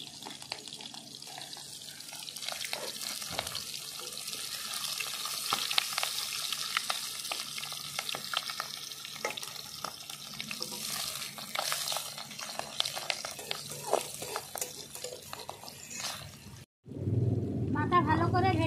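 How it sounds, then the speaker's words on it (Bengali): A catla fish head frying in a pan, with a continuous crackling sizzle and spattering pops at close range that stop abruptly, followed by a brief low rumble of running water. "কাতলা মাছের মাথা, মাথাটা প্রথমে ভেজে নেবি আগে।"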